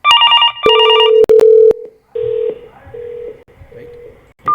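Telephone tones from an outgoing call on a CUCM phone system. A short burst of dialing beeps is followed by several even, repeated ringback tones, clear and close, with brief gaps between them.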